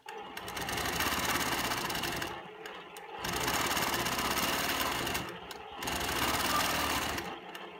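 Sewing machine free-motion quilting echo lines around feathered swirls, running in three sustained bursts separated by short pauses, close and steady.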